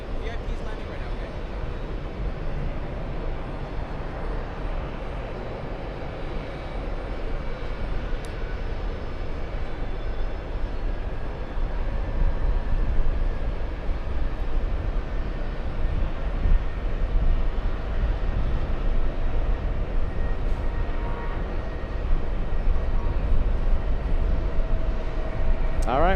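An airplane carrying a VIP delegation of Kyrgyzstan's heads of state lands at JFK in New York, a steady, distant jet roar that swells gently midway and holds, with faint chatter in the background.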